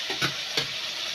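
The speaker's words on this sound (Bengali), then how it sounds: "আমি মাংসটা একটু ভেজে নিয়েছি, এইবার কেটে রাখা পেঁয়াজ কুচি এর মধ্যে দিয়ে দেব।" Chopped onion drops into a pan of frying meat for a light mutton curry, giving a continuous close sizzle with a couple of brief stir clatters.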